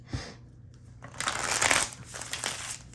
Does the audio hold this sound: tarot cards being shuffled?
yes